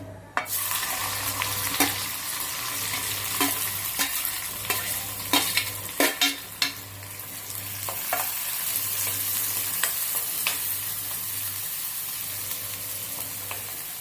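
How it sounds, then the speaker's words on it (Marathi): Onion fries in a pan for a spicy sev curry, a continuous sizzle broken by sharp scraping clinks of a spatula stirring, busier in the first half, over a low intermittent hum. "त्यात आता कांदा टाकून घेऊया"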